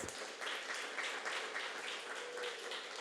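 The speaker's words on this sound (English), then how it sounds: "please give this amazing panel a big round of applause" Audience applause for a fashion panel discussion at a live event, a steady broadband clatter of many hands clapping across the whole stretch, fairly soft and distant, with no talk over it.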